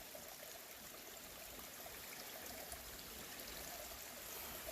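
A tiny stream flows on state hunting land, giving a steady, even wash of trickling water throughout with no voices.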